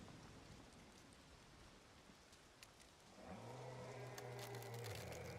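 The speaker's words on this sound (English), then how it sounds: "And it's starting to rain." Rain falling in The Witcher video game, a steady hiss of drops on surfaces that swells louder partway through, joined by a low droning tone.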